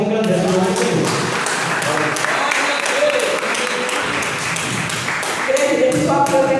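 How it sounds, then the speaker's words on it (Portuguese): A church congregation at a family worship service claps loudly in a rhythmic, fairly regular beat, close and sustained, while a voice speaks and musical tones sound underneath. "as palmas engrandecem o nome do Senhor"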